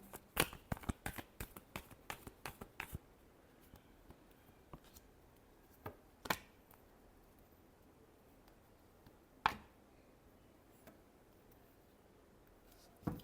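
Tarot cards are shuffled in a quick run of crisp riffling snaps at first, then sparse single slaps and taps against a quiet background.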